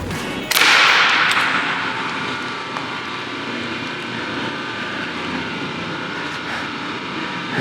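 A pressure washer fitted with a regular nozzle blasts water onto a jet ski, starting with a sharp burst and then holding a steady, loud hiss of spray with a low pump drone beneath it.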